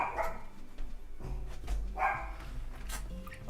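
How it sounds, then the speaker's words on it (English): Dogs barking behind a closed door, a few muffled, moderately distant barks and yips scattered across a few seconds over a low background hum. "my dogs can't get out. They're just gonna bark."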